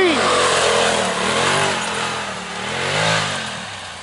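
Stock 2021 Velocity Turbo S side-by-side revving on a dirt track, its engine note climbing and falling in a few swells at moderate distance while someone talks over it.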